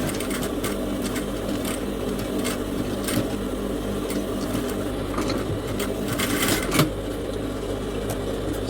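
Sewing machine stitching the ruffle edge of an aso-oke fabric headband, a steady close whirring hum running throughout with slight swells near the end, no talk over it.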